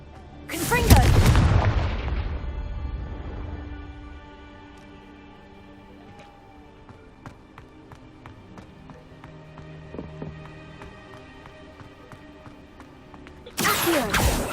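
Confringo blasting spell in Hogwarts Legacy, a loud explosive boom at the start that decays into a long ringing tail over quiet ambience, followed by another sharp burst at the end.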